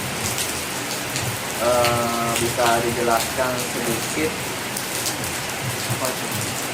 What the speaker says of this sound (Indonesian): sebelum kita berangkat nunggu hujan reda